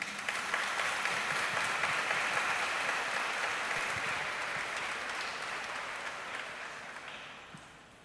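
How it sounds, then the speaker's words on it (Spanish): Sustained applause from a large crowd at a Catholic solemnity Mass, greeting the bishop, steady and dense for several seconds before gradually thinning out at the end. "Un aplauso para nuestro obispo."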